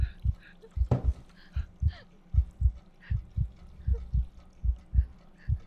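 Rhythmic heartbeat in a horror game, a steady thudding pulse of paired low beats repeating about twice a second, with faint ambient sounds above it.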